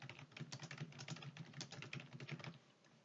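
Quiet, rapid keystrokes on a computer keyboard, a continuous run of close, light clicks at an even typing pace with no voices.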